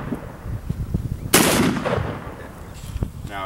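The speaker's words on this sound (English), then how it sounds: "Bass, I'm gonna shoot it again" A single loud gunshot at a shooting competition, a sharp blast with a decaying echo, preceded by low handling noise and followed by quieter rustling and a faint click.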